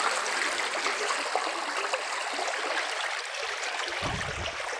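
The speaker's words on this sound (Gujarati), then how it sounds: "આપણા ખેતર પીવડાવવાનું પાણી है।" Canal water flowing steadily to irrigate a farm field, a continuous broad rushing and trickling wash heard close up, with a brief low gurgling swell near the end.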